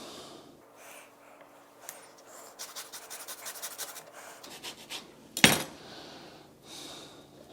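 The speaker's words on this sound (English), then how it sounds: "Now we need to zest a orange." Orange being zested on a hand zester while preparing smoked salmon: faint, rapid rhythmic scraping strokes for about two seconds, followed by a single louder clack and soft handling sounds.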